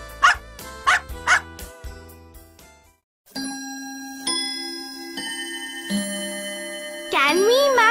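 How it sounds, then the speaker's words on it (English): A dog gives three quick barks close up, then falls quiet while a steady ringing, ticking tone and chimes carry on, with a bright sliding tone at the end. "Dog."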